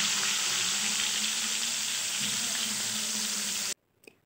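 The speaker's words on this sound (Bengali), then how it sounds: "এখন তেলের মধ্যে মাছগুলোকে ছেড়ে দিচ্ছি।" Fish rubbed with salt and turmeric frying in hot mustard oil in a wok, a loud steady hissing sizzle that cuts off abruptly, followed by a brief faint knock.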